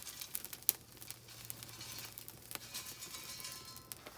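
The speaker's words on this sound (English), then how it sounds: "get some of this green coal, just a small shovelful, and you're just going to sprinkle it on over top" Small shovelful of green coal sprinkled onto an 18th-century style forge fire, giving faint crinkling patter and light sizzling crackles, with a few sharper ticks scattered through.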